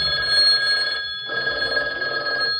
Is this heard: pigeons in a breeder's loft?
no